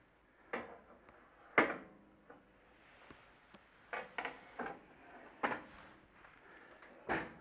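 A handful of quiet, scattered clunks and knocks as an oven door is handled and shut, with faint rustling between them.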